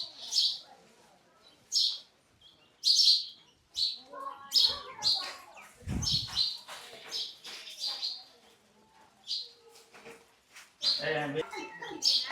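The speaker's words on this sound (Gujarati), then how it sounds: "જો ઘણી બધી ચકલી છે મિત્રો" Many sparrows chirp outdoors near a temple on an island, bright repeated tweets in bursts throughout, fairly close, with people talking and a brief low thump in the middle.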